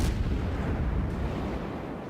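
Warship guns of the battleship Des Moines roar in World of Warships, a dense, sustained boom of naval artillery that fades slightly as it rolls on.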